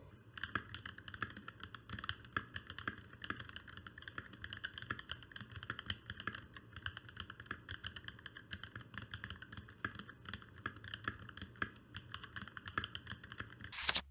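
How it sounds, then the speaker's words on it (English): Continuous typing on a mechanical keyboard fitted with clicky, deep-sounding TKC switches: a steady stream of sharp keystroke clicks with no voices. "The sound of this switch somehow produces an amazing, deep, but it's still clicky sound."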